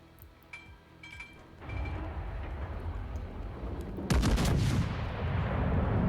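Naval gunfire in World of Warships: Legends, where a few faint clinks and shots give way to a heavy booming salvo with a long rumbling tail, then a second louder blast and echoing roll.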